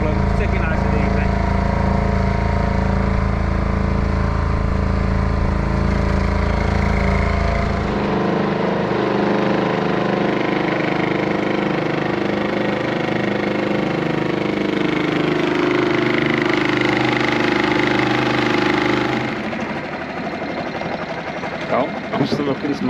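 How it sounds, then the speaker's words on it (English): A small boat's engine drones loud and close as it pushes upstream against a strong river current, a steady motor hum that shifts in pitch partway through, with water rushing around it. "So I'm going against the flow, so the engine's got to work a bit harder."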